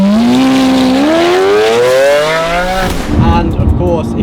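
Lamborghini Aventador with a 730 hp 6.5-litre V12 and Capristo exhaust revs up in a loud rising wail, then drops off with pops and crackles from the exhaust.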